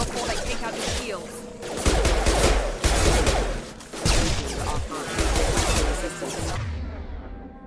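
Rapid bursts of automatic gunfire in the video game Mass Effect 2 as squad members shoot hostile mechs at a colony, loud and dense with repeated volleys and brief lulls, under faint voices.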